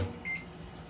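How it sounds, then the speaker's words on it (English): A microwave oven runs while heating a bath sprinkles mixture, with a low electrical hum and a brief high beep near the start. "so I'm just gonna pop her in the microwave real quick"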